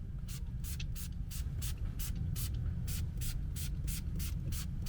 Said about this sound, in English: Because it's quite a fine spray, it travels quite well.